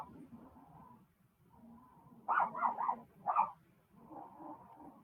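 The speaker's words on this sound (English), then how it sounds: "I don't know if you can hear my dogs barking." A few pet dogs bark in the background while they play, giving a quick cluster of three yaps and then one more. The barks are moderately loud against a quiet, murmuring backdrop.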